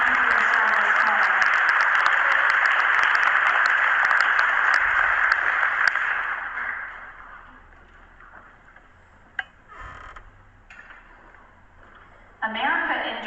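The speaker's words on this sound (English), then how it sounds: "Please give both of them a round of applause." Dense applause from a crowd at a school Veterans Day program fills the first half, then fades out, leaving a quieter room with scattered noises.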